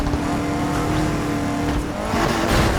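Loud, continuous racing car engine roar in Need for Speed Heat with dense mechanical noise, building slightly toward the end as another car's engine closes in from behind.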